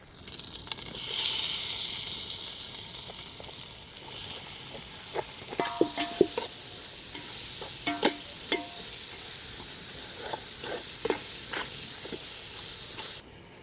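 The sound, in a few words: tomato and coriander frying and stirred in pan for fish curry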